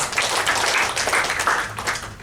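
A church congregation claps together: steady, dense applause from many hands fills the room at a fairly loud level, with no speech over it.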